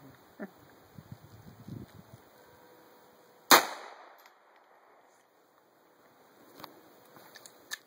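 A single sharp crack from an old .22 rifle fired outdoors at a range, near and loud with a short ringing decay, following a few faint thumps and handling noises before it.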